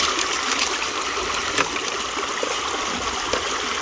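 Water pouring and splashing steadily through a gold prospecting sluice box, a close, continuous rushing trickle with no voices, holding an even level throughout.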